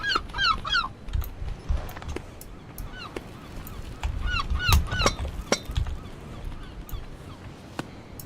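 A goose-like bird in a mountain-climbing video game honks in quick repeated clusters, loud and close, with pauses between bursts and scattered clicks and thumps from the game.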